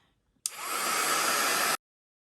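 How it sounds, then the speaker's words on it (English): A heat gun blows steadily on a mixed media resist piece, a loud, even whooshing roar that starts abruptly, holds for just over a second and cuts off cleanly. "If you've got a heat gun, definitely give that a go before you work any media on top of this."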